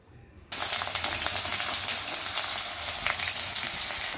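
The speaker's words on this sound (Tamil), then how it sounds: "ஒவ்வொன்றா நம்ம இந்த கடுகெண்ணெயில் வறுத்துக்கணும்" Vegetables hitting hot mustard oil in a pan, a sudden loud sizzle bursting in after a quiet half second and then holding as a steady, dense, close frying hiss.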